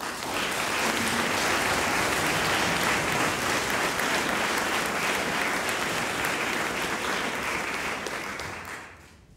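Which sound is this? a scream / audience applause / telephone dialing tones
audience applause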